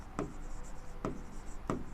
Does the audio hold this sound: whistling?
no